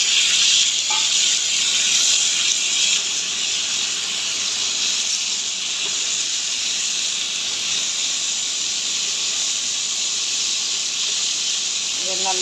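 Tomatoes sautéing in a pan with tamarind and cumin for pirandai thuvaiyal: a loud, steady, bright hiss of frying that holds without pause from start to end, no talking.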